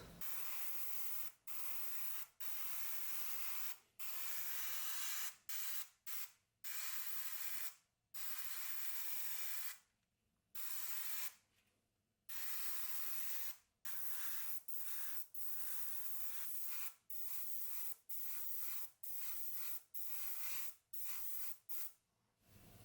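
An airbrush sprays Kaleido acrylic metalizer paint, champagne gold, in repeated short hissing bursts of one to two seconds each, with brief silent gaps between them, close and steady, with no talking.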